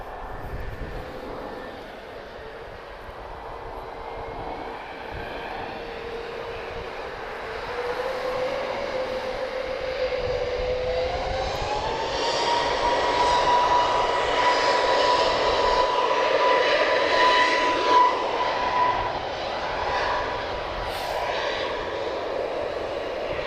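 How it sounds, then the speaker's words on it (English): A Bombardier Global 6000 business jet makes a full-length runway takeoff at Lisbon Airport, its engine roar building steadily from a distant rumble to a louder, sustained whine and rush, with no voices over it. "we're going to get a full runway takeoff by the Global 6000 as well"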